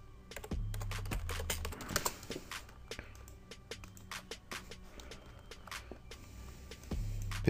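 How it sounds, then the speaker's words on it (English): Quick bursts of clicking keystrokes on a computer keyboard during a Runescape player-versus-player fight, close and fairly quiet, irregular clusters of taps with short gaps and a few heavier key strikes. "I hate typing in fights."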